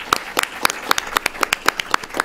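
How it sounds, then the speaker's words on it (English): Sparse hand claps ring out at a policy forum on the U.S.-Korea alliance, about ten sharp, close claps in a loose, even rhythm, with short quiet gaps between them and no talking. "Let us give a big applause to the."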